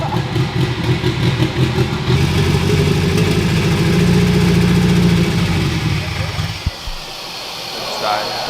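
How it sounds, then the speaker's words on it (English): A Volvo 240's engine fires up and runs at a steady, loud idle with a rough, rumbling tone, cutting off abruptly near the end before a quieter stretch; voices are heard over it. "Today we got the 240 to fire up"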